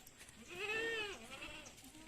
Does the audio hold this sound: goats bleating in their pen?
yes